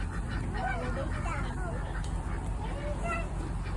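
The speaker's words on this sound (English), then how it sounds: "the ducks over here, they're quacking." A flock of ducks at a wild animal park quacks and honks in overlapping bursts, fairly close over a continuous low outdoor rumble, with people's voices in the background.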